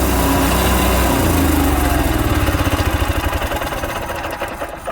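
A 2009 Cummins Onan 4000 RV QG generator engine roars loudly and steadily, then settles into a pulsing, throbbing idle as the run continues, with no voices.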